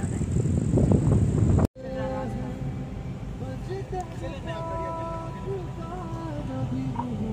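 Strong wind gusts buffet the microphone outdoors in Pakistan as a loud low rumble for under two seconds, then an abrupt cut leads to steadier background with voices.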